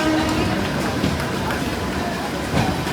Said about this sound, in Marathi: आता मित्रांनो ना ठाण्यावरून ट्रेन सुटले